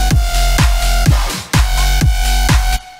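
Stock Serum synth with stock reverb and a low cut, playing punchy rhythmic stabs with booming low hits and a bright reverberant tail. The pattern repeats in two phrases, loud and up close, before cutting to silence at the end.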